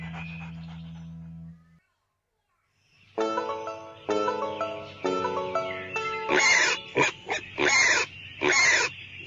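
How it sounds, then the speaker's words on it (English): A pig grunts and then gives a run of loud, harsh squealing snorts after a brief musical tone and a short silence. "The pig."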